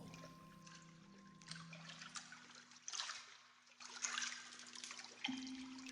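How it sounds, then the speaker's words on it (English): Soft, close water gently lapping against a stone wall beside a slowing boat in still air, with quiet trickling, sloshing and faint dribbles that come and go in small surges. "The only sound is the water lapping the stone wall."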